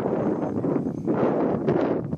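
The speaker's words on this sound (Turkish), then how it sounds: "rüzgar var." Gusty wind during an F330-frame drone test flight buffets the microphone with a continuous rough, low roar that swells and eases slightly.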